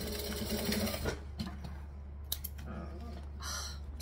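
A sewing machine stitches down a fabric edge with a steady close whir at the start, then stops. Scattered clicks and handling sounds follow, with a short burst of stitching near the end.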